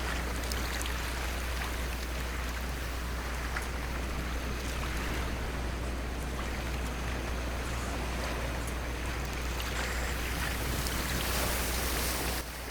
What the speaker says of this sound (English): It's like listening to the water on a shore or at the beach.